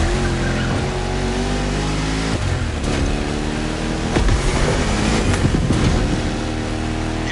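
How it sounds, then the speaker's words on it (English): A 1969 Mustang Boss 429 driven in The Crew Motorfest racing game, its engine a loud, steady roar held throughout with shifting intensity and faint tire noise, no voices over it. "You're driving my #1 car, the star of my collection, the 1969 Mustang Boss 429."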